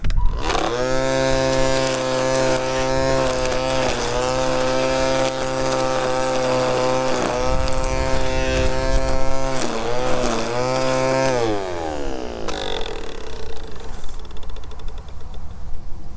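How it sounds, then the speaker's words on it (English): A Teccpo 20-volt cordless string grass trimmer with a 2Ah lithium-ion battery trimming around a pipe: a steady high electric whine with slight pitch dips as the line hits grass, close and loud, then spinning down near the end. "Now let's trim around this pipe."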